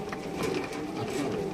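Racer pigeons cooing softly nearby, low throaty coos rising and falling over a faint background rustle, brief and quiet.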